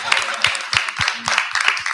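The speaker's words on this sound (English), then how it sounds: "And we should clap about that." A small group claps at a transformative justice community event, sparse uneven hand claps in short clusters, close and moderately loud, with speech faintly underneath.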